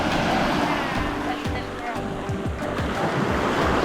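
Sea waves wash onto the sandy beach of Jomalig Island, a loud close rush of surf with wind buffeting, continuous and noisy throughout.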